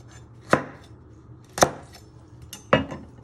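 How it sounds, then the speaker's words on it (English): Three separate knife chops strike a cutting board at even intervals as the ends come off garlic cloves, each one a sharp, close thunk. "You're going to first chop your ends off"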